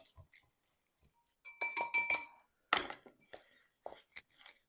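Guanciale curing ingredients are mixed by hand in a bowl, giving a few quiet clinks and scrapes in short bursts with soft rustling between them, and no voices.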